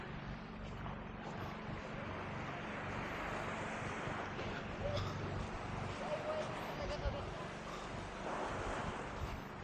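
Sea surf on the beach at Boracay, heard as a continuous broad wash mixed with wind buffeting the microphone, with people talking over it.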